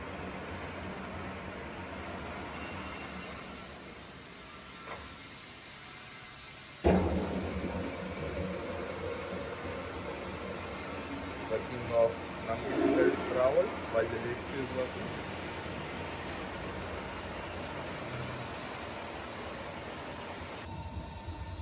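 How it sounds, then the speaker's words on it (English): A Pinacho S-90/260 lathe from Spain runs with its lead screw driving the carriage along: a steady mechanical whir and hum, a sudden clunk partway through, then continued running with rattling and clicks in a workshop. "Now show me longitudinal travel while the lead screw is working."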